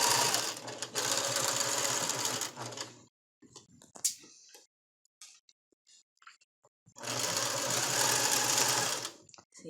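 A sewing machine stitches lace for a flower girl dress, running in two steady, fairly loud bursts of a few seconds each, separated by a quiet pause with light handling noises and someone speaking.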